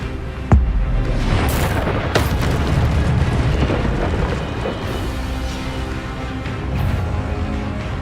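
Expelliarmus and other spells cast in Hogwarts Legacy: a sharp loud burst at the start, then booming magical blasts and crackling impacts that rumble on through the fight.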